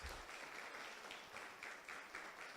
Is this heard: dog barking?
no